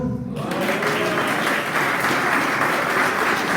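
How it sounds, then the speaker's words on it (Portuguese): A church congregation breaks into sustained applause, a dense, even wash of many hands clapping together that fills the room after a short lead-in. "Aplauda o Senhor"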